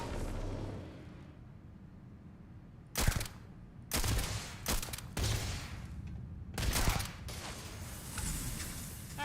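A gun fires in Starfield in several short bursts separated by pauses, each volley sharp and close over a low background hum.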